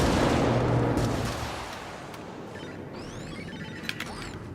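Incoming gunfire and explosions in a video game battle, a heavy roaring barrage at first that thins into scattered sharp cracks and whizzing shots.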